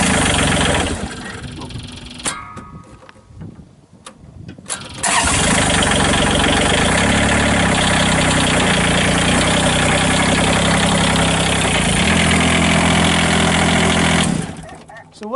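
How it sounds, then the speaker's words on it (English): Kubota D722 diesel engine in a 2016 Avant 420 articulated loader, starting with a cranking burst, then settling into a loud, steady, close idle with a throbbing low rumble that cuts off at the end. "Again, Kubota D722 engine. Let me start it and I'm going to show you something neat."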